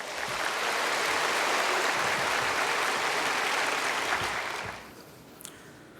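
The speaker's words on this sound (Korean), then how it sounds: "우리 나오실 때 장기호 형제 박수로 환영하십시다." Church congregation clapping to welcome a brother forward for a baptism testimony: a broad, sustained roar of applause that swells and then fades out near the end, leaving a quieter room.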